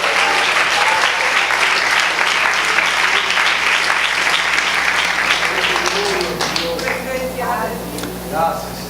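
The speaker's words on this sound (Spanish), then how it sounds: "Dele fuerte el aplauso" A church congregation applauding during a sermon, sustained loud clapping that fades out toward the end while a voice speaks over it.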